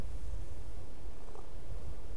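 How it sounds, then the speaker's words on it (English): A cat purring softly and steadily up close, a low continuous rumble with no other sounds. "apologise for the purring"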